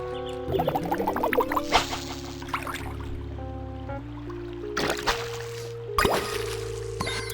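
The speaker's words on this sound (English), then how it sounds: "you will yank that fish out of the water" A fishing video game with a cozy farming-sim feel, a fish yanked from the water with splashy, squishy liquid sounds and drips amid chiming tonal game music.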